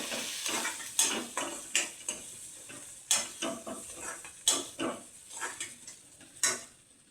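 Vegetables for a beetroot bhaji being stirred and sautéed in a pan with chilli powder and salt: repeated sharp scrapes and clinks of a spoon against the pan at an irregular rhythm, over a soft steady sizzle, close and with no talking.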